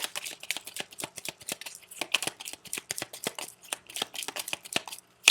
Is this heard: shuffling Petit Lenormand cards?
yes